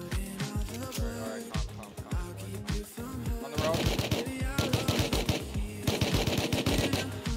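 Revolver gunfire in a multiplayer survival video game on a vanilla server: sharp, close shots in rapid clusters, growing denser and louder partway through.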